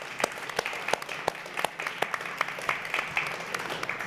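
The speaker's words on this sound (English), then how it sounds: "Give them a big hand of applause." A conference audience applauds a panel, with distinct, scattered handclaps from a modest crowd, fairly faint and sustained throughout.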